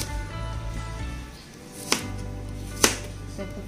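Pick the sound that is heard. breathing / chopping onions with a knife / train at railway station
chopping onions with a knife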